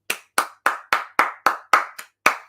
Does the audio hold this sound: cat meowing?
no